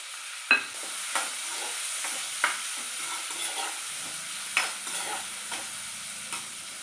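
Sliced onions and green chillies frying in hot oil with curry leaves in a pan, a steady soft sizzle broken by a few sharp clinks and scrapes of a stirring spoon, close and without talk.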